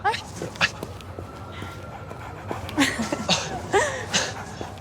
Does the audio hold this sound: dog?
yes